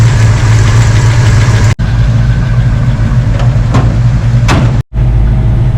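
A car engine with a freshly recored radiator idles steadily up close with the AC on, a constant low rumbling hum broken by two brief moments of silence.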